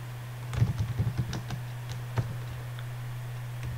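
Quick, light keystrokes on a computer keyboard as a colour name is typed into a design program, a brief run of close taps followed by a couple of isolated clicks over a steady hum.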